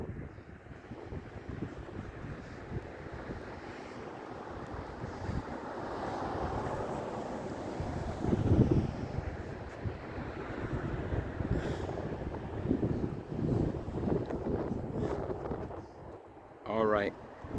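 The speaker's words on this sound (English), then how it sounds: "It's the wind." Gusty wind buffets an outdoor microphone on a windy day in Florida during a pigeon release, a rough fluctuating roar that swells and fades, with people talking intermittently beneath it.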